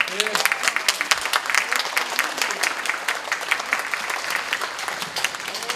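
Audience at a Democratic Party lecture event in Jungnang applauding, steady dense clapping with sharp individual claps, sustained throughout with some voices mixed in.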